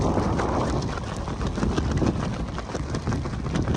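Steady wind buffets the microphone on a mountain stretch of the Camino de Santiago near the San Adrián tunnel, a continuous broadband roar with no pauses.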